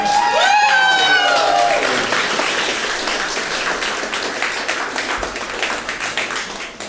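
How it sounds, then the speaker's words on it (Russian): Studio audience applauding at a Russian talk show taping, dense clapping that starts loud alongside a brief whistle-like tone and cheering, then thins into steady scattered claps that persist to the end. "Хлопайте."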